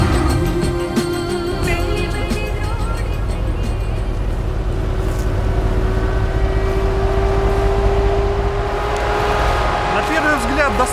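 Mercedes G63 AMG Gelandewagen with turbo engine and all differential locks engaged, straining up a slope off-road; steady loud engine drone throughout, with people talking over it.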